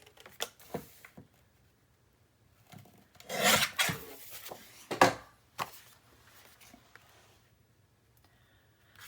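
Paper being trimmed down for a 9 x 9 Graphic 45 mini album page, heard as short, dry rasping and scraping strokes in uneven bursts, the loudest cluster midway, with quiet gaps between.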